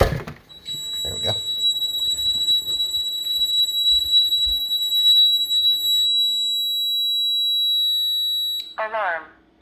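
A Honeywell home security alarm, tripped by an opened dining room window, sounds a steady, loud, high electronic tone for most of the stretch, with a few thumps and someone talking under it before it cuts off and a synthetic voice begins.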